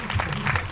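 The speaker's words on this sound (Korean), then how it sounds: "박수 한번 부탁드립니다" A lecture audience at a director's master class gives a short burst of applause, a brief continuous wash of clapping with no speech over it.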